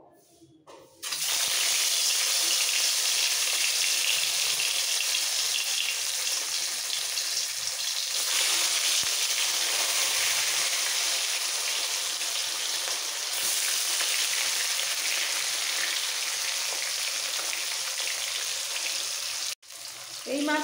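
Rohu fish pieces coated in salt and turmeric drop into hot mustard oil and burst into a loud, steady sizzle that keeps going for about twenty seconds, with a short break near the end.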